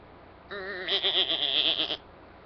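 A single sheep gives one close, clear bleat of about a second and a half, wavering in pitch, against a quiet background.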